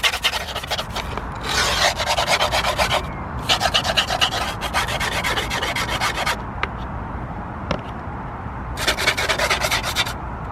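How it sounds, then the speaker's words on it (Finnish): A knife trims the edges of skateboard grip tape in repeated bursts of harsh, gritty scraping, each lasting a second or two and separated by short pauses. The scraping is close and loud, and no one speaks. "Sitten seuraavaksi puukko ja täällä tyysäpuolella vedetään täältä reunat."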